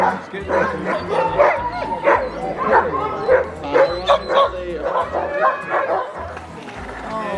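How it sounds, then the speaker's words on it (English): Alaskan Husky sled dogs in Denali National Park whine, yip and bark over and over in a busy, overlapping chorus close by, with people's voices mixed in. "All the dogs that weren't picked today are all whining."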